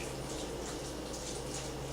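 Water poured from a tap into a raw dog food mix of egg, chicken, veggies and rice, a steady close hiss of running water with no pauses.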